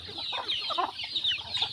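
Chickens being fed in the morning, a flock clucking and chattering busily, with overlapping close calls and no talk.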